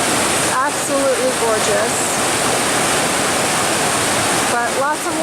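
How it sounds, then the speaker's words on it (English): Rushing water of the Willamette River where the North Fork and Middle Fork meet, a loud, steady roar filling the whole clip, with birds chirping faintly on top and a voice speaking briefly over it. "It's a lot of water. So this is the North Fork, Middle Fork, Willamette."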